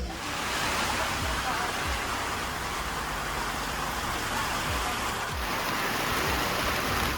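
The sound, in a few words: rain around a boat in the Sundarbans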